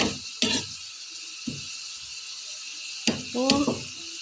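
Onions frying in a pan for a chicken dish, a steady hiss running under the whole stretch, broken by a few brief clinks and scrapes of stirring near the start and again toward the end.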